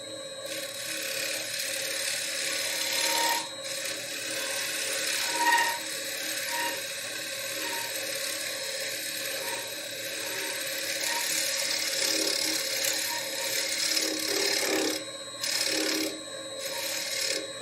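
A green wood bowl spinning on a lathe as a gouge makes light shear cuts, giving a steady, continuous scraping rasp with faint rising and falling texture and brief dips, close and alone without talk.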